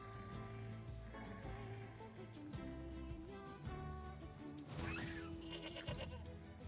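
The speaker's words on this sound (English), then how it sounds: "Oh, that's a goat." A goat in the video game Nier Replicant gives a few bleats over continuous in-game music and effects, fairly prominent in the mix.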